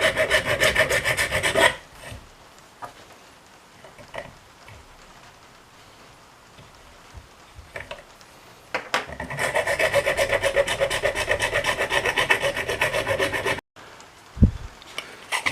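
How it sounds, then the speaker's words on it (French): A rat-tail file rasps against metal while parts for an 80W diving light are being fitted, harsh scraping strokes in two long bursts separated by quieter pauses and lighter handling noise. "notre queue de rat. Et comme pour les LED, on ajuste."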